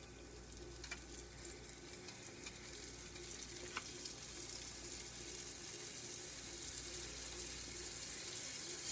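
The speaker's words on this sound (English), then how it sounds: "I'll get a couple pieces ready and then go ahead and put it in the oil." Cubed steak pieces frying in hot oil, a steady close sizzle and crackle with a couple of faint clicks, continuous and gradually growing louder.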